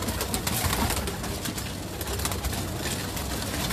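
Pigeons at a rooftop loft coo repeatedly in low, throaty calls, several birds overlapping close by over a steady background hiss, with no talking.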